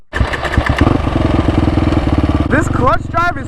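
Can-Am quad ATV engine running close up, a loud, rapid pulsing throb that holds steady and then blips, with someone speaking near the end.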